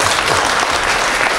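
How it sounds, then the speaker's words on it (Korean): An audience at a lecture on studying gives a loud round of applause, a short dense burst of clapping close by with no voices over it. "네, 큰 박수 한번 주실래요?"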